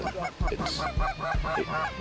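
Honking goose calls during a goose hunt in northern Minnesota, three or four loud, close, evenly spaced honks with clucking overtones filling two seconds, no talk.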